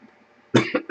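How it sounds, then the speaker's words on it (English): A person coughs three times in a row, loud and close, after a quiet stretch with faint room noise. "And I'll stop coughing soon."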